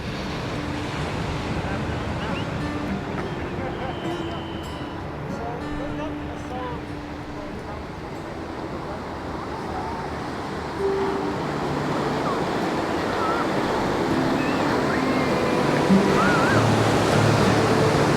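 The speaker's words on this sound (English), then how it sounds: "Right now I'm standing on the beach in Venice, right near lifeguard station number 28." Ocean waves rolling onto the beach at Venice near a lifeguard station, a steady loud wash of surf with wind buffeting the microphone.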